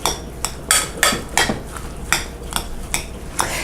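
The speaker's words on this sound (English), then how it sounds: "And then we're just gonna mix it all up." Spoon scraping and clinking in a bowl while mozzarella is mixed with Italian pizza seasoning, a series of about ten sharp, close scrapes in an uneven rhythm, with no talking.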